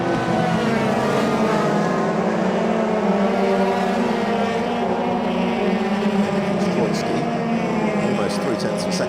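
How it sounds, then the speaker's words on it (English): Euro Formula Open single-seater race cars lap the Monza circuit during qualifying, giving a sustained, droning engine whine with shifting pitch as cars pass, heard under continuous commentary. "You can see the cars running together, all jostling for track position"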